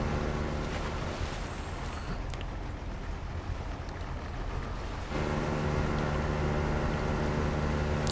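A boat cruises across open water in the survival game ARK, with a steady broadband rush of hull wash and wind that holds constant and swells slightly louder midway through, no voices present.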